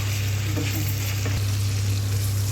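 Onions frying in oil in a pan for a mutton stew give a steady, even sizzle with a low hum beneath it, no voices over it.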